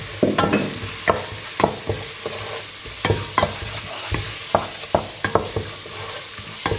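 Food fries in oil in a pan, with paprika and chili powder being stirred in, giving a steady sizzle broken by repeated scraping stirs every half second or so, close and clear with no talking.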